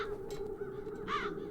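Crows cawing in the video game The Dark Eye: Chains of Satinav, with one harsh caw standing out near the end over a low steady ambient drone and fainter calls earlier, no talk.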